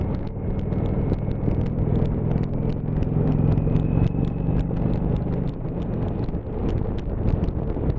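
A 2019 Indian Chieftain motorcycle with a 1.8-litre two-cylinder engine rumbles steadily on a test ride. The engine note is loud and continuous, mixed with constant wind buffeting throughout.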